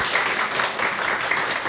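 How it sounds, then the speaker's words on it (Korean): A church congregation applauds during a Sunday worship service, producing a dense, continuous wash of many hands clapping together, loud and close throughout a short burst with no voices on top. "우리 온전히 건강 회복하시도록 박수해 주시면 감사하겠습니다."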